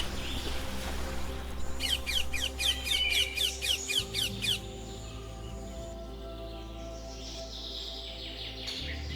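Amazon parrots call in the jungle, a rapid burst of harsh repeated squawks and chatter early on, then more distant calls over a constant low rumble of background noise.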